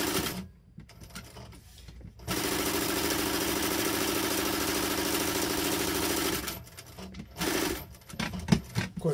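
A sewing machine stitching canvas in a leather workshop runs steadily for about four seconds with a loud, even mechanical whir, framed by quieter handling noises and brief clicks before it starts and after it stops.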